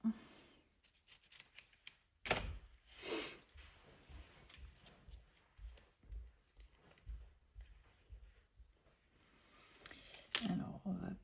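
Scissors snip through paper and card for a handmade mini album, a few short close cuts between quiet rustling, with someone speaking French softly in between.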